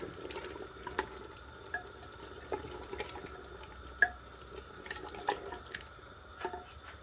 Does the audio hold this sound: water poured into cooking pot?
yes